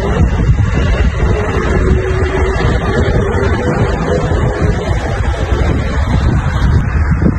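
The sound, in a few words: wind blowing against the microphone outdoors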